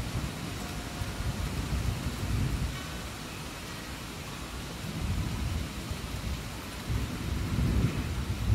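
A garden property in a storm after about three inches of rain in an hour: continuous heavy rain with deep thunder rumbling in and out several times, with no voices.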